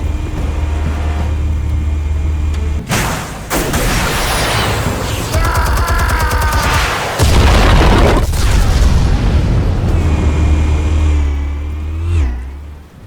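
Explosives detonating in the Batman: The Telltale Series video game, a series of loud booming blasts with rumbling low end and clattering debris, set against a steady mechanical hum and swelling game music.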